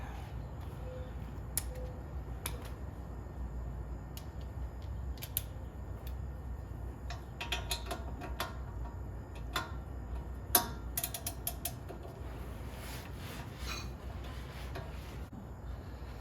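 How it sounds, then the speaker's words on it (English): Torque wrench clicking while tightening brake parts on a 2002 Ford Mustang, scattered faint sharp clicks and ticks in bursts over a quiet garage background hum. "Alright, then we use the torque wrench."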